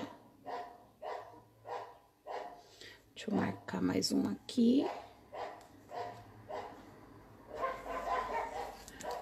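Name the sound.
dogs barking in the background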